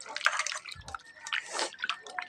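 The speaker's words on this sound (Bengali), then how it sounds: "এই যে আমি গরম জল দিয়ে দিচ্ছি এক বাটি মতন।" Hot water is poured over poultry meat in a bowl to wash it, giving close, splashy drips and small gurgles in uneven bursts.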